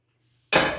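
An enchilada filled with refried beans, two cheeses and black olives is set into a greased 13x9 pan, making a single sudden close clatter after a quiet moment.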